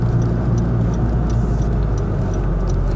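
Honda Civic Type R FK2 driving at low speed, a close, steady engine and road drone from inside the car with no talk.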